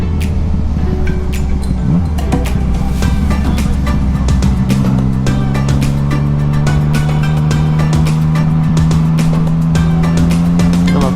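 Yamaha MT-09 Tracer 900 motorcycle ridden through countryside, its engine droning loud and close with a steady rising tone as it pulls through the gears, alongside wind rush.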